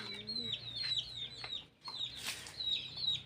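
Chickens clucking in a backyard coop, repeated short clucks and calls coming in bursts at close range, with a brief quiet gap partway through.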